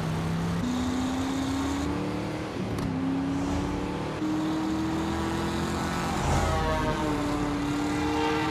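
A news helicopter in the driving game Driver San Francisco keeps up a steady, loud rotor and engine drone, its pitch stepping up and down for the whole stretch with no talk over it.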